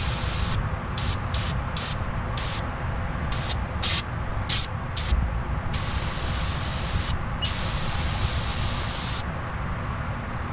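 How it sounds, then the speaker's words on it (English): Degreaser sprayed across the engine bay of a BMW E28 gives a loud, steady hiss with short spurts and pauses, running for about ten seconds with no talking. "I'm gonna throw some degreaser on a bunch of stuff so we can kind of knock down a lot of this trash."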